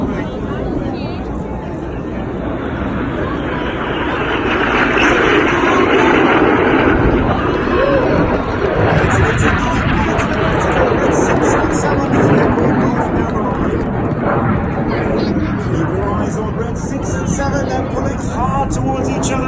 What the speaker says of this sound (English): In from the left and the right with a closing speed of over 700 miles an hour, the aircraft will pass 100 feet apart